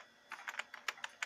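Keys clatter on a computer keyboard in quick, uneven bursts of light clicks, faint and close, with no voices.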